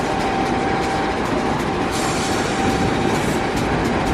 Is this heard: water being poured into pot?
no